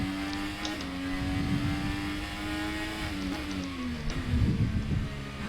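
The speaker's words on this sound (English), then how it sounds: "we'll do a silent lap next so you can hear the sound of the engine" A Dallara IR-18 IndyCar engine in a racing video game hums at a steady high pitch, then drops as it downshifts, with rumbling tire and road noise underneath.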